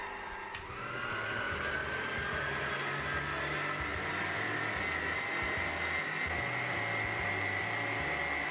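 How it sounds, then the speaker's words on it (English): An electric mixer beats icing sugar for vegan piña colada cupcake frosting, giving a steady, fairly loud motor whir that swells a little after the first second and then runs on evenly, with no talking. "I'm turning up the mixer speed gradually because I don't want the icing sugar to fly"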